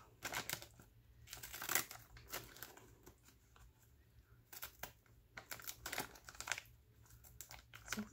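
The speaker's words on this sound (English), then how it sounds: "It's a little bit hard to cut on this stuff too with, you know, decorative top scissors." Decorative-edge scissors cut through mylar-backed paper with close, quiet crinkly snips and rustles, coming in uneven bursts separated by short pauses and with no talking.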